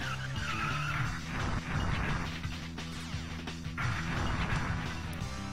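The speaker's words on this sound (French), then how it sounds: "La voiture violette s'est plantée." Cars in the Super Nintendo game Rock N' Roll Racing, with repeated tire skids and crashing impacts in bursts over a constant engine drone and game music.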